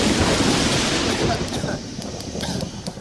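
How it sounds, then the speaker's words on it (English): Thunder rumbles heavily with the hiss of rain, loud and broad at first and then easing off into a rougher, fading roll. "Thunder. And thunder can get pretty loud."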